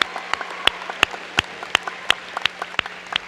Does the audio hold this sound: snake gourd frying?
no